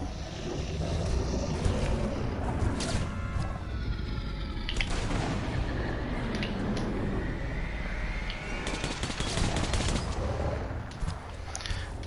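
Powerful rifle fire in Metro Last Light Redux, dense bursts of gunshots over a rumbling, noisy game soundscape that stays loud and cluttered throughout, with no one speaking.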